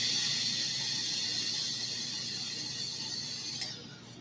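Torch-style lighter jetting flame to touch up a Maduro cigar, a close, steady roaring hiss that fades slightly near the end.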